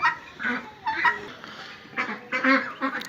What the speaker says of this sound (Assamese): এয়া মোৰ ব্ৰইলাৰ হাঁহৰ পোৱালি